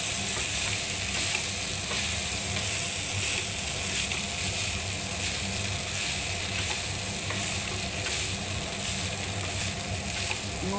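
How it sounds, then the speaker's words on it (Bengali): Day-old leftover rice fries in a pan while it is stirred continuously, a steady loud sizzle with scraping and rattling stir strokes throughout. "কালকের ভাতগুলো এবার আমি নাড়তে থাকবো কন্টিনিউ"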